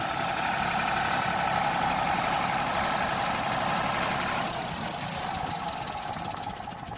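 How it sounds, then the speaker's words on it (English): A tractor engine runs steadily while driving out to a field for plowing, a loud, close, knocking diesel rumble that stays constant and eases slightly partway through. "I'm going to jump up on the tractor, drive it out into the field"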